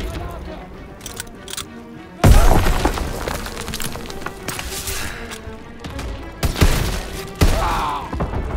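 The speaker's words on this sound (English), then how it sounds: "Grenade!" A grenade goes off during the Call of Duty D-Day invasion: a sudden loud, shattering blast breaks into the battle din, followed by more thuds and gunfire, with soldiers shouting.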